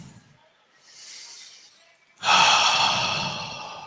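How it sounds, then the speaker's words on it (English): A person draws a deep breath, starting with a soft inhale, then a pause, then a strong, airy exhale that lingers for more than a second. "Let's take another deep breath."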